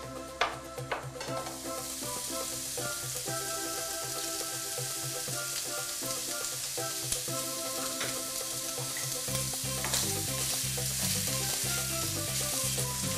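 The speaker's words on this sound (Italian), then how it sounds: "aggiungo la salsiccia sminuzzata e la lascio rosolare." Crumbled sausage browning in a pan, a continuous close sizzle with scattered pops, tapping and scraping stirs, and a faint musical tone running underneath.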